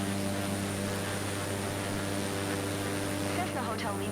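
Steady drone of a Cessna engine in flight over the French Alps in Microsoft Flight Simulator 2024, a continuous even cockpit hum with no change in pitch, loud and unbroken throughout.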